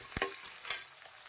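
Potato pieces fry in hot oil and get stirred, with two quick scraping stirs over a soft, steady sizzle in a brief, close stretch.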